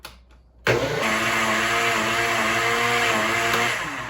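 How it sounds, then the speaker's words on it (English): An electric kitchen blender starts suddenly after a short quiet moment, then runs with a loud, steady whir as it blends soaked almonds with water into homemade almond milk. No one speaks over it. "Put it into the blender, put the cover on, and zap it for like 20 or 30 seconds."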